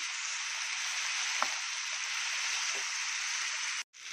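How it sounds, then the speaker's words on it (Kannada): Tomatoes fry in a pan with coriander and curry leaves for an ivy gourd dish, giving a steady, close hissing sizzle that runs unbroken and cuts out briefly near the end. "ಟೊಮೊಟೊ ಎಲ್ಲ ಇದರೊಳಗೆ ಚೆನ್ನಾಗಿ ಮೆತ್ತಗೆ ಫ್ರೈ ಆಗಲಿ"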